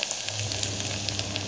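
Spices sizzling steadily in hot oil in a pan while mutton tahari cooks, heard as a close, even crackling hiss with small pops and no talking.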